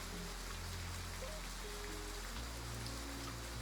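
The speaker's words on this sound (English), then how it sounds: "It's raining again" Steady rain falls continuously, a dense, even patter of drops with a low rumbling bed beneath, holding at a constant level throughout with no voices.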